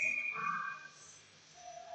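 A referee's whistle at an ice hockey game, one clear, bright blast that fades over the arena's background murmur, followed by a fainter tone.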